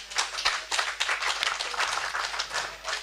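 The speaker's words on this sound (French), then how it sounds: "Applaudissons si vous aimez cela." A church congregation claps during an apostle's birthday celebration, a dense patter of hands with regular pulsing surges that stays steady and fairly loud throughout.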